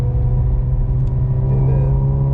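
A Mercedes SL45 engine pulls steadily under throttle on a wet road, a loud continuous low rumble with a faint rising tone near the end.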